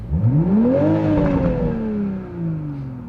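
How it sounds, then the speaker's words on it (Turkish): A 2021 Toyota Supra revs sharply in sport mode, its exhaust rising to a loud throaty peak and then slowly falling away in a single sustained rev, close by with no talking. "Spor modunda da egzoz sesi daha yüksek. Mesela şöyle bir gaz yayayım."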